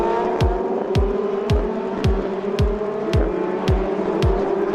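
Formula Renault 2.0 race cars of the VdeV series run on the Magny-Cours circuit, a loud, sustained engine drone broken by evenly spaced low thumps that repeat about twice a second, with no talking.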